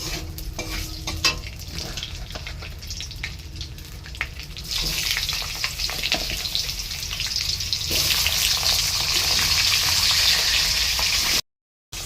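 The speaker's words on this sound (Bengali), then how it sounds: "তো এখানে একটু কালো জিরে ফোড়ন দেবো।" Nigella seeds sizzle in hot oil as the tempering for a fish curry, with a steady frying hiss that surges louder partway through, along with light stirring clatter.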